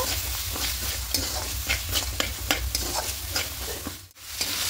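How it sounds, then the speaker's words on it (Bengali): Green peas sautéed with spices in a pan, a steady sizzle broken by repeated scraping strokes of a spatula, close and fairly loud, with a short pause near the end. "মটরশুঁটিগুলো দিয়ে একটু হালকা করে কষিয়ে নেব"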